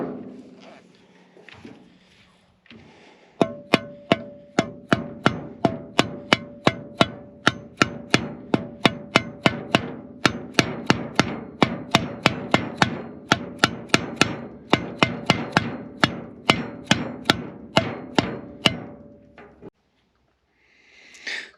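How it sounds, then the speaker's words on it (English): Small dead blow hammer tapping a part onto an engine flange on a 1977 Ford Highboy, a long steady series of about thirty sharp knocks at an even rhythm, close and loud, with quiet handling sounds before and after. "So we've got a small, pretty clean dead blow hammer. So we'll go ahead and tap this thing"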